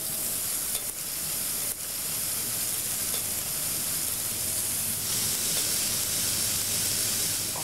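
Oiled food sizzles steadily on a grill, a dense close hiss with occasional sharp ticks and stirring scrapes, continuous with no voices.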